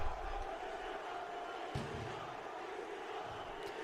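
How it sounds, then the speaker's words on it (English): An ECW wrestling crowd chants throughout the arena, a steady, massed roar of voices with a couple of soft thuds from the ring mixed in. "So you can hear the ECW crowds chant throughout the place right now."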